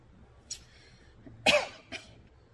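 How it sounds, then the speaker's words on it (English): Three separate coughs, a short one, then a louder harsh cough, then a weaker one, with quiet pauses between them. "Don't know why I started coughing again today."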